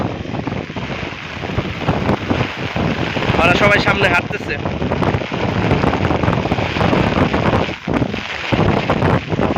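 Strong storm wind roars and buffets the microphone throughout near a bridge, with people talking over the gusts.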